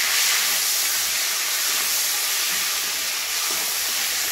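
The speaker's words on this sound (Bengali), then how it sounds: "টমেটো কুচি দিয়ে দিচ্ছি" Chopped tomato drops into a hot pan of fried garlic paste, setting off a loud, steady, close-up sizzling hiss that eases slightly toward the end.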